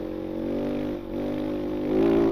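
Kove 450 Rally motorcycle engine revving, a steady droning mid-pitched engine note that dips briefly then rises again near the end, close and sustained, no talking.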